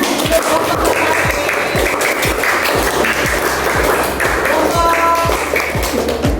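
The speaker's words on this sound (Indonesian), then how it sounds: "Tepuk tangan" A classroom of students claps for a presenting student group with sharp, close, steady claps in a fast rhythm. Scattered voices and chatter run underneath the whole time.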